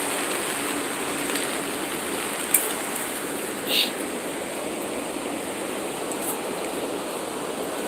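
Steady rushing water spilling down from a dam where a factory supply stream meets the river, a broad continuous wash at moderate level with one brief sharp knock partway through.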